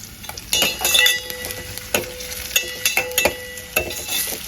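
Onions with a pinch of salt sizzle steadily in hot oil, broken by repeated close stirring scrapes and light clinks of a spoon against the pan, and no one speaks.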